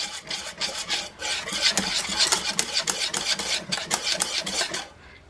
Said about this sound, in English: So I'm just using a whisk.